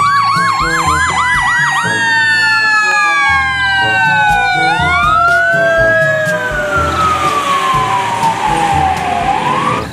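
A toy fire engine wails with a loud, continuous electronic siren, rapid yelping warbles at first, then slower rising and falling sweeps, repeating throughout with faint background noise.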